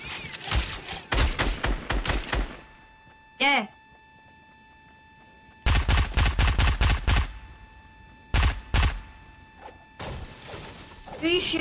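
Rapid bursts of video game gunfire in close, loud volleys separated by pauses, with a whooshing effect in one gap and voices talking alongside.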